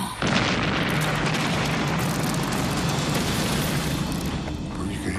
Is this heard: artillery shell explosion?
yes